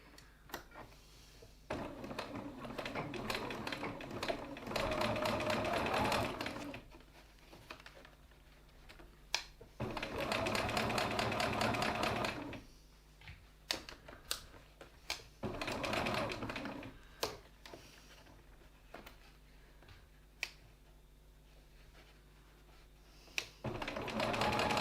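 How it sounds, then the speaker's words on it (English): A sewing machine top stitches a wallet in several bursts of rapid, steady mechanical chattering lasting a few seconds each, separated by quiet pauses with small clicks and handling noises. "now we're going to top stitch this top bit here"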